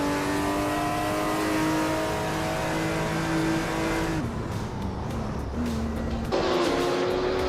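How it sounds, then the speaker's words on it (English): Race car engines from a 1977 Porsche 936 field in a racing video game, a loud continuous engine drone with steady pitch that drops and shifts between gears, close and dominant with no talk. "Kulukachu is driving a 1977 Porsche 936"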